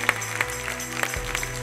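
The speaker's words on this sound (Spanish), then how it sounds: "Dale un aplauso al Rey con todo tu corazón." A church congregation at a Spanish-language worship service breaks into applause, brief scattered clapping heard up close with no voices over it.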